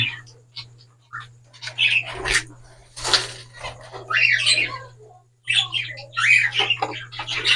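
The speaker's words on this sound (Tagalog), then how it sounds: "nandito rin yung ano, apat na inakay na kakahatch pa lang" High, thin peeping and chirping from four newly hatched bird chicks in uneven bursts, close by, over a low steady electrical hum with brief pauses between calls.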